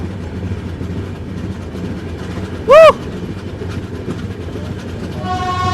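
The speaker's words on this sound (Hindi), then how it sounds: "पैरेलल ओवरटेक करते हुए वाराणसी न्यू दिल्ली शिवगंगा एक्सप्रेस" The Varanasi–New Delhi Shivganga Express runs alongside on a parallel track, a steady rail rumble and clatter with one short, sharp horn blast partway through.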